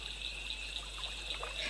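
A babbling stream trickles steadily, a soft continuous watery hiss with faint bubbling splashes toward the end, gentle and unbroken with no voices.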